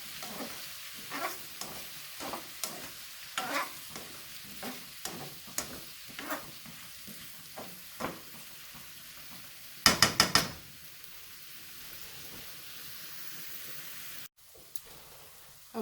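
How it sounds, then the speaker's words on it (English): Mexican-style zucchini sizzling in a pan while being stirred, a soft steady sizzle broken by repeated scraping spoon strokes, a brief louder clatter near the end, close and without talk. "Giving this another stir"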